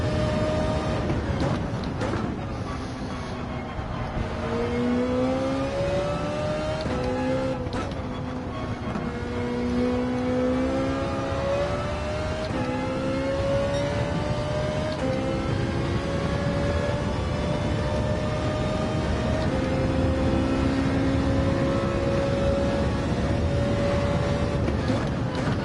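Ferrari race car in Gran Turismo 7 lapping the Nurburgring GP circuit, a steady high-revving engine whine rising and falling through gear changes and corners, continuous and fairly loud throughout.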